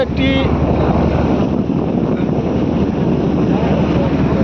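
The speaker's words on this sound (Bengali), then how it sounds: "একটি ট্রলার যাচ্ছে" A trawler boat passing on a river in the Sundarbans, heard as a steady broad engine and water rumble mixed with wind buffeting the microphone, continuous throughout.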